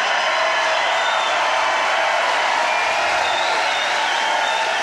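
A dense crowd of supporters at a JD Vance political rally in Tucson, Arizona claps and cheers without a break, a loud steady wall of applause and shouting that lasts the whole time.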